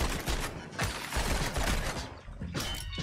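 Shotgun fire in the video game Rubber Bandits comes as a rapid series of loud, sharp blasts packed closely together, with mechanical clatter and game effects around them.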